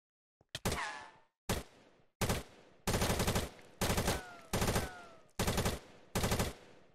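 Gunfire in a zombie video game comes as about eight sharp, loud bursts of rapid shots, separated by short pauses and with no voices over them.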